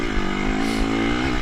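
A motorcycle engine runs at high revs during a motocross-style race in Denver, a loud, steady drone that holds at near-constant pitch with slight rises throughout, close and continuous.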